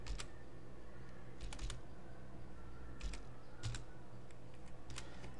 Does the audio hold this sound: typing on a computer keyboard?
yes